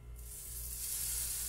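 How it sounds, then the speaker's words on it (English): Cooking spray hisses onto a hot griddle, a steady close spray that builds slightly in loudness over a second and a half over a low sizzling hum, with no talking. "Let's do a little spray."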